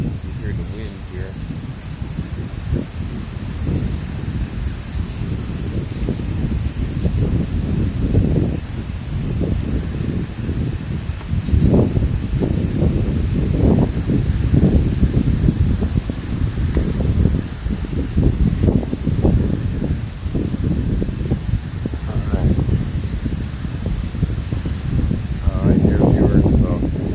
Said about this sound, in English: You hear the wind here.